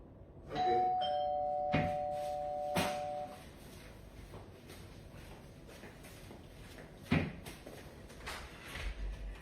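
A hotel room doorbell rings a sustained two-tone chime lasting a few seconds, followed by a couple of sharp knocks or clicks in an otherwise quiet room.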